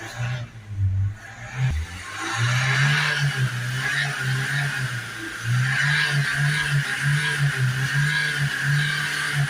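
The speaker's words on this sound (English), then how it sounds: "we're going to just give it some revs for a minute now" The 2.0 diesel engine of a Vauxhall Vivaro van with a clogged particle filter revs steadily at a loud, sustained pitch, with a brief dip near the start before settling into a constant high idle.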